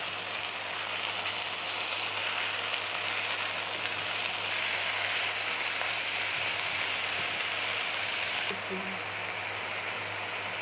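Red amaranth greens frying in a pan and being stirred, giving a steady, loud, rain-like sizzle throughout with soft shuffling from the stirring.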